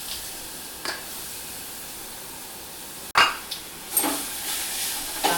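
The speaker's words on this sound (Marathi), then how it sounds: "आता हे फोडणी टाकायचं." Hot oil tempering poured into a dish with dried red chilies, crackling in a few sharp bursts over a steady low hiss, loudest near the end.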